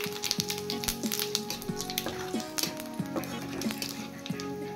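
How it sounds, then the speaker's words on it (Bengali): Whole cumin seeds and bay leaves sizzle and crackle in hot oil in a pan while a Bengali fish curry is being cooked, a steady close frying hiss with scattered pops and light stirring clinks. "এবার তেলে দেব গোটা জিরে আর তেজপাতা।"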